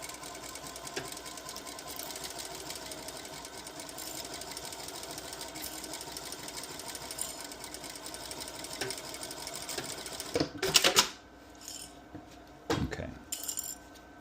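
Sewing machine stitching across the top of a bucket hat, a steady close mechanical whir running for several seconds, then stopping with a few clinks and handling sounds.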